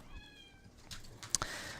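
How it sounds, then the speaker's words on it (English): A kitten gives a faint, drawn-out meow at the start, followed by soft rustling and a couple of quiet clicks in a quiet indoor room. "Okay, so I have a new kitten, and he's meowing right now."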